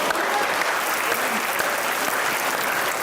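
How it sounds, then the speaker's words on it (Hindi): A studio audience at a talk show bursts into applause, a loud, sustained wash of clapping from many hands lasting the whole moment with a voice faintly beneath. "तालियां।"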